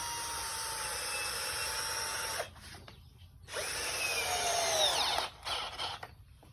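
A power drill drives bolts through an old tire into wood, a close, loud whining run that stops briefly, then revs again in short bursts with pauses between.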